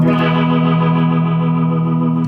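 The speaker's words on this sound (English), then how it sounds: "let's just go to that rotary speaker setting and just show you what that's like" A steady, sustained clean electric guitar chord through a Line 6 Flextone II amp's rotary speaker effect rings with a subtle swirling, wavering texture, loud and close, with no voices.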